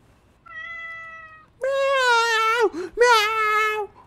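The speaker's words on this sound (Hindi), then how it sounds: "अपनी बिल्ली ने खाना खा लिया ना म्याऊ मेरी म्याऊ ये ले" A cat in the video game Pumping Simulator 2 meows loudly in two long, wavering calls, close and clear, just after a shorter steady tone.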